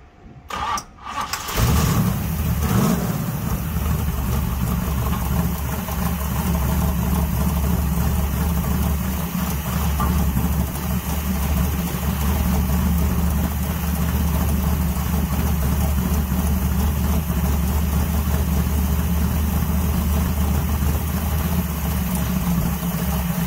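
A vintage muscle car's engine cranks and fires after a brief starter whir, then settles into a steady, loud, rumbling idle that holds unbroken to the end, with no voices over it.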